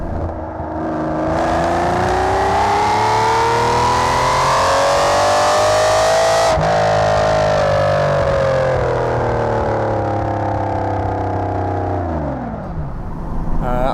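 An Aston Martin Vanquish accelerates hard, its engine note climbing in pitch, then a sharp gearshift before it rises again and finally drops away as the car eases off, loud and close.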